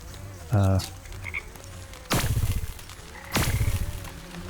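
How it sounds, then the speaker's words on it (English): Frogs croak in a swamp in the video game Wytchwood, with three loud, rasping croaks spaced apart over a low ambient hum. "Well, we got a lot of frogs here."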